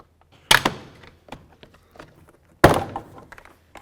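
Two sharp, loud cracks about two seconds apart as a car's interior door panel is pried off its clips, each pop followed by brief rattling and handling noises nearby.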